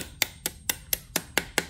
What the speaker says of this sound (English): and then you can take your hammer